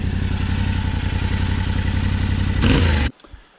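Yamaha Tenere T700 motorcycle engine idling with a steady, soft mid-pitched thrum, swelling briefly in a short rev before cutting off abruptly into near silence.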